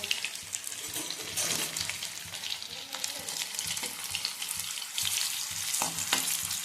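Garlic frying in a pan for a sorghum-flakes dish gives a dense, continuous crackling sizzle close by, broken by occasional scraping stirs and a few soft clinks.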